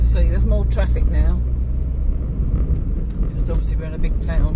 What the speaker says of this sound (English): There's more traffic now